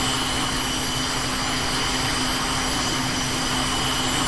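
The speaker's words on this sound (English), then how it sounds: "we're going to go ahead and kick on that APU and you'll hear it revving up" An aircraft auxiliary power unit in the VTOL VR flight game spools up with a steady high turbine whine over a constant low hum, loud and unbroken, with no voices.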